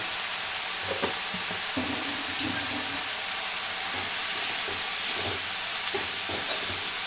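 Amaranth greens cooking in a pan with a steady broadband hiss of steam and gentle sizzling, with a few faint stirring scrapes and knocks, no talking.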